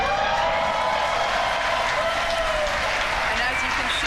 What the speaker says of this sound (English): here by the clapping and cheering behind me